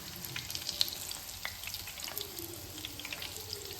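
Breadcrumb-coated chicken donuts deep frying in hot oil, a steady soft sizzle with scattered crackles and pops throughout, fairly close.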